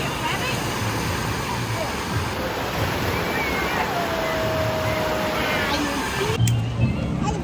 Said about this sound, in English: So we're now here at the wave pool, the main area.